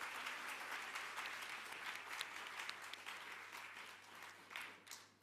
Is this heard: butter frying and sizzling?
no